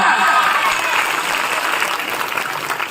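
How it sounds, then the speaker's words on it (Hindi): Audience applause at a stage program celebrating April 14: a dense, steady patter of many hands clapping together, loud and continuous, fading slightly toward the end. "एक बार बजाओ इन लोगों के लिए जोरदार तालियां।"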